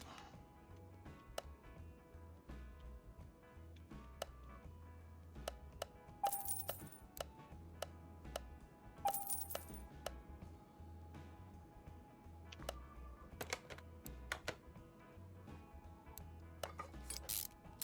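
Computer keyboard keys being mashed: a quiet, irregular run of sharp clicks and taps, some clustered in quick bursts, close and alone over a faint background hum.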